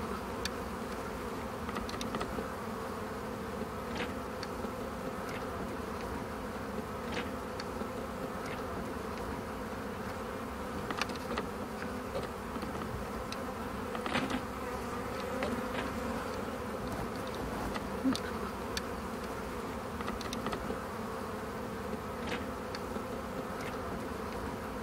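Honey bees hum continuously around a hive while a beekeeper clips the queen's wings by hand, an even, moderately faint colony drone broken by occasional brief clicks and close passes, with no speech.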